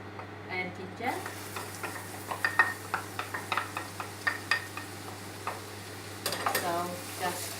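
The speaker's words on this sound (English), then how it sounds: "So now I'm going to put my garlic into my wok and ginger." Garlic and ginger sizzle in hot oil in a wok for Chinese fried noodles, a close crackling fry punctuated by a series of sharp scraping and tapping strokes from stir-frying, with no one talking.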